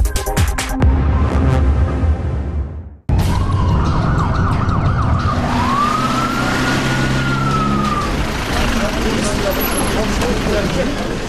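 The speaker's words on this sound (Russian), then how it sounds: "Вереница машин скорой помощи от переполненных отделений Жанаузеня стремилась в областной центр." A convoy of ambulances with wailing sirens heading from Zhanaozen to the regional centre, loud and close over heavy traffic noise, with sweeping and yelping siren tones after a brief cut.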